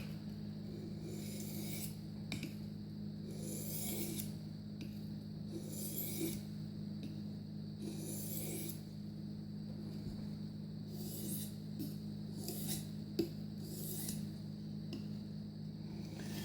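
A knife is sharpened on a stone wetted with Smith's honing oil. Repeated back-and-forth strokes make soft, close rasping scrapes in a steady rhythm of about one stroke per second.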